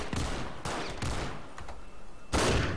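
A shotgun fires repeatedly in GTA 5, four loud, sharp blasts at uneven intervals, each with a short booming decay, close and without talk.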